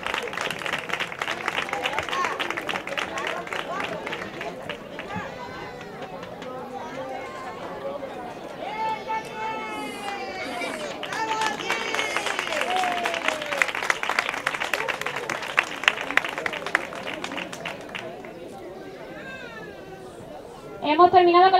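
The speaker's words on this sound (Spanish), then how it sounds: "Sánchez Pérez José Manuel, un aplauso." Audience applause at a school end-of-year graduation ceremony in Almonte, steady clapping mixed with crowd chatter and children's voices throughout, swelling briefly louder near the end.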